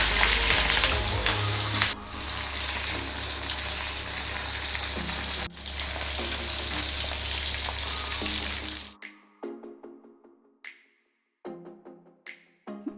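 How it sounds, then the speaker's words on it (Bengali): Fish frying in hot oil gives a loud, steady sizzle for most of the clip, then drops to quieter, intermittent crackles and spatters near the end. "মাছগুলো ভালো করে ভেজে নেব।"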